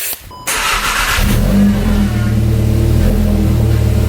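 A Volkswagen MK7.5 GTI with a cut AWE exhaust starts and settles into a steady, low, quiet idle hum, heard up close without talk.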